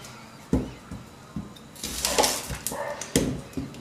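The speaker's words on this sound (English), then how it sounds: "the neighbour's dogs are barking because I'm doing something" A neighbour's dogs bark outdoors beside a home kitchen, giving several sharp, scattered barks and yips at moderate distance, clustering more densely toward the end.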